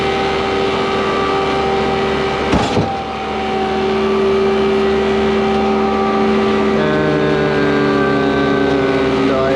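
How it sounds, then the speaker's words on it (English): A concrete mixer truck pumps down the load in its drum hopper, a steady loud mechanical drone with engine tones holding throughout, a brief clunk near the third second and a shift in pitch later on. "So I'm just going to pump it down a bit."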